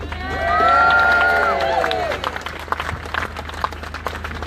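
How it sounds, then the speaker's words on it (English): Audience applause and cheering at a live political rally, clapping mixed with raised voices and a swell of crowd noise that builds then thins into scattered claps. "Please clap for Nick Hopkinson."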